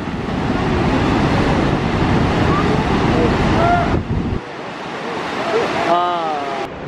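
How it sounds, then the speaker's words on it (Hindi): The Saraswati River rushing at its source near Bhim Pul in Uttarakhand, a loud continuous roar of churning water with wind buffeting the microphone, easing slightly near the end; no talking. "ये जो आप देख रहे हैं ये है सरस्वती नदी का उद्गम स्थल"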